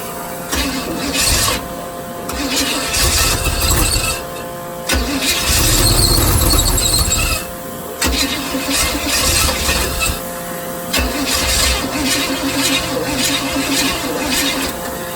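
A 1978 Chevy engine cranks over repeatedly in loud bursts, with a harsh high squeal riding over the starter's churning rumble, pausing briefly between attempts.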